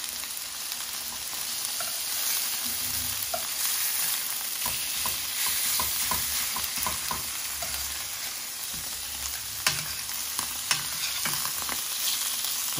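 Meat searing in a hot pan while pizza fillings are prepared, a steady loud sizzle and crackle with occasional stirring scrapes and pops, no voices.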